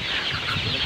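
Busy clucking from a group of chickens, continuous and close, with overlapping calls and no talking.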